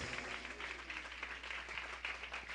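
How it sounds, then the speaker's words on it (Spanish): Loud, steady applause from a church congregation at a sermon in Chisajcab, a dense wash of clapping sustained throughout without speech. "haya fuertes aplausos a la palabra de Dios"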